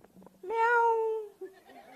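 At a live Khel Paithanicha contest, a contestant imitates a cat with their voice: one drawn-out, nasal meow rising then sliding down, followed by a brief softer tail, close and clear.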